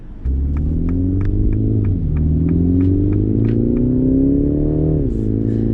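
A 2021 MINI Countryman on a road test, its engine droning steadily up close with rising revs through gear changes, a smooth mid-pitched hum dipping briefly between shifts, with a faint regular ticking over it.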